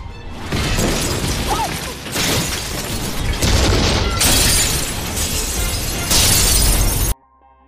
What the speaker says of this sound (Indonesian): Tiba-tiba, tungku itu meledak menghancurkan seluruh barang antik di ruangan ini.